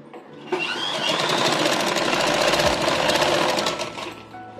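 A tailoring sewing machine stitches a shaping belt for a blouse, running in one steady, fast, rattling burst for about four seconds, close and loud, with no talking.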